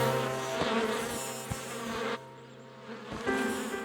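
Cartoon bees buzz from a hive in a steady, fairly loud insect drone, with a brief pause midway and a few soft thumps underneath, no one speaking.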